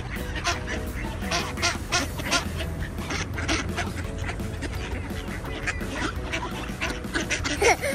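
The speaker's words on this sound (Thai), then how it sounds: "เป็ดเยอะมากเลยนะลูกฮะทั้งนกทั้งเป็ด" A large flock of ducks quacks and honks continuously outdoors in a winter setting in Oslo, a dense, steady chorus of many birds close by.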